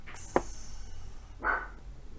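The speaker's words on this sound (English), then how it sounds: "Bella, quit barking" A pet dog gives a couple of short, muffled barks or yips indoors, one sharp sound followed after a pause by a longer, softer vocalization, heard faintly against quiet room background.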